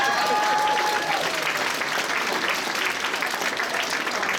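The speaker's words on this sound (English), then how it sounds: "Big round of applause." Applause from an anime convention masquerade audience, a dense steady clapping that fills the room for the whole stretch, with a faint whistle near the start.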